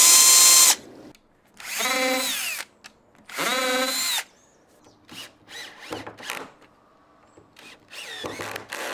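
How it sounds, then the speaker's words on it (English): A power drill drives pilot holes and screws into a workshop door hung on hinges, several loud whirring bursts rising in pitch, separated by pauses and quieter handling noises. "Now I can drill the pilot holes again and get some screws in."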